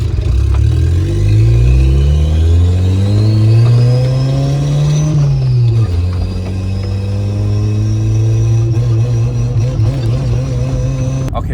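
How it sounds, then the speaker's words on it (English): Honda D-series engine revving hard in a stationary car, a loud close rising and falling drone that climbs, drops sharply around midway, then holds steady at high rpm with no pause. "that's just me messing around, just like pressing the gas pedal"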